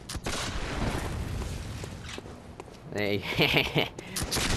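Gunfire and combat in the video game Bloodborne, a burst of sharp shots and impacts amid game effects, with a voice talking over parts of it.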